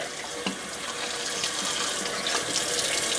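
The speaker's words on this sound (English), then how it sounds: "I'm just going to run some cold water and see if I can unlodge that piece of ice." Cold water runs from a kitchen tap over a raw turkey, a steady close splashing stream with small shifts in spatter as the bird is moved under it.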